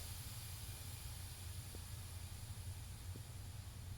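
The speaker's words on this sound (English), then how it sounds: "Did you guys hear that hissing?" A faint, steady hiss from a Porsche 944's LS-swapped engine persists throughout, broad and airy, with no other distinct sounds.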